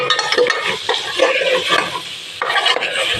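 Cut raw mango is stirred into heated garlic and chilli powder for a sweet mango pickle, a loud close sizzle with repeated spoon scrapes and clatters, no voices.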